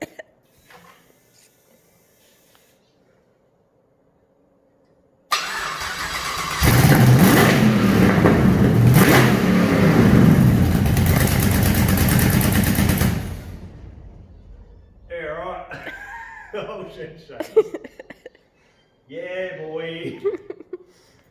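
A small Mini Moke engine cranks and roars loudly for several seconds, then cuts out, followed by voices talking and laughing nearby.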